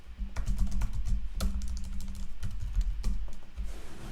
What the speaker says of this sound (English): I'm going to type in the new person's email address.